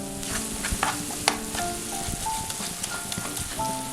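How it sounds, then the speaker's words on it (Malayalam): Softened tomatoes being mashed in a hot pan: a continuous close sizzle with soft squelches and scraping stir sounds, no voices. "തക്കാളി ഒന്ന് സോഫ്റ്റ് ആയിട്ടുണ്ട്. അതൊന്ന് നന്നായിട്ടൊന്ന് ഉടച്ചു കൊടുക്കാം."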